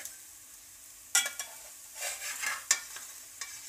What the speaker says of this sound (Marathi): आता आपण आपले थालीपीठ पलटून घेऊया.